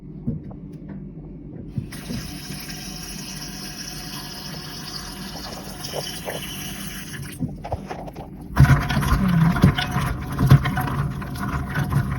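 Water runs and splashes steadily as ingredients are rinsed in a kitchen, with a brief pause near eight seconds before a louder, heavier sloshing resumes close by.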